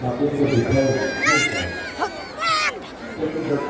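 A large crowd at a Bhagwat Katha in a stadium murmurs and chatters, with a few raised voices and shouts rising above the steady babble close by.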